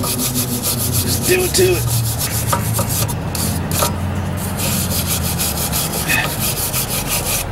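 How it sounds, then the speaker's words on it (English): A small wire brush scrubs rust from the rear disc brake parts of a Hyundai Elantra, making a continuous close rasping scratch throughout, with someone briefly speaking over it. "I just get a little wire brush."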